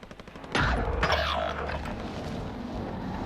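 Gunfire in the video game Call of Duty: Warzone, Plunder mode: a sudden loud burst of shots followed by another sharp crack, then a dense sustained rumble of firing and noise continuing close and loud with no voices.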